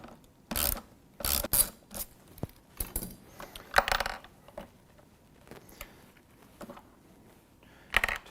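Ratchet wrench working the two 3/8 bolts off the clutch of a Frigidaire FLCE7522AW laundry center, heard as short bursts of close metallic clicking and clattering with pauses between.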